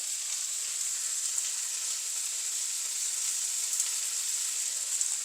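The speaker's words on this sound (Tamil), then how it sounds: "இது நல்லா வதங்குது." Vegetables sizzling in oil in a pan for a spicy Tamil-style vegetable gravy with eggplant, a steady bright frying hiss throughout, close and unbroken.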